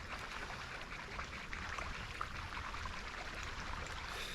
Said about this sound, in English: hear the waterfall behind me